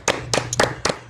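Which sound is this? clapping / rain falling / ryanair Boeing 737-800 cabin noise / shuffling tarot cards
clapping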